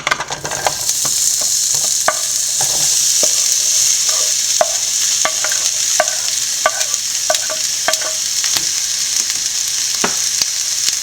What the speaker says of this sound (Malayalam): എണ്ണ ചൂടായിട്ടുണ്ട് നമുക്ക് സവോള ഇട്ടു